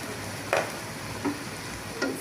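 Onion and ginger paste frying in a pan for chicken biryani gives a soft, steady sizzle, broken by three short scraping stirs at even intervals.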